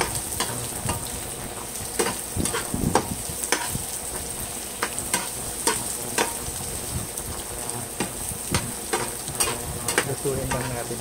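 Carrots stir-fried in a pan with golden-browned garlic for a no-meat sotanghon guisado: steady close sizzling and frying hiss, broken by frequent sharp clicks and scrapes of a utensil stirring against the pan.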